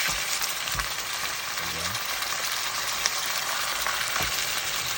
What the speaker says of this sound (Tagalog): Igisa lang natin siya para lumabas yung kanyang natural na oil sa chicken.